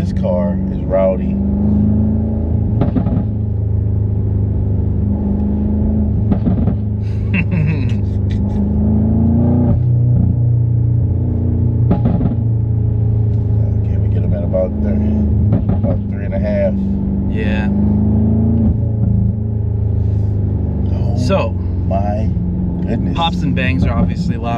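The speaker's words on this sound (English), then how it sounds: "Pops and bangs are obviously louder because of the tune and the downpipes." Tuned 2018 BMW M5 with downpipes, a loud, deep exhaust rumble throughout with sharp pops and bangs, and people talking over it.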